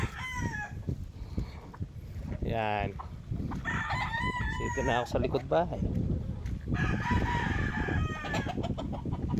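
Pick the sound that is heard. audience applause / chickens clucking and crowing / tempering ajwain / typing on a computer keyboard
chickens clucking and crowing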